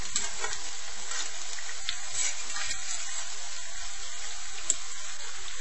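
Potato pancakes (latkes) frying in oil in a pan, a steady dense crackling sizzle throughout with small pops and occasional spatula scrapes, close and fairly loud, no voices.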